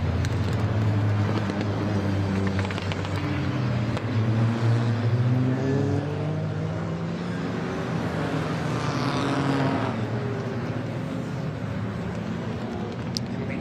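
Race cars led by a Ferrari lap the track in a Britcar Into the Night endurance race, their engines roaring steadily with rising and falling tones as they pass, loud and continuous with no voices.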